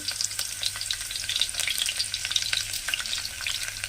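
Onion pieces crackle and sizzle steadily in hot oil, close up and continuous, with no voices.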